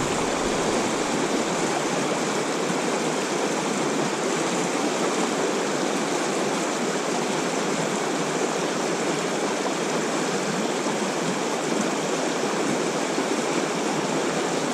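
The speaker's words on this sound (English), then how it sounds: "You can see how fast this water's flowing." Fast-flowing river water rushing steadily at a fishing spot in spawning season, a loud, continuous broadband roar that holds unchanged for the whole stretch with no voices.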